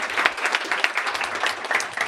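An audience in a full conference room applauds a co-chair at a global health and SRHR initiative launch, a steady, dense patter of many hands clapping throughout.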